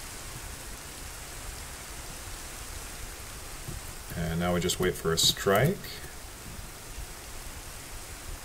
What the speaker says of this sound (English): we'll make sure this is a thunderstorm and not just rain.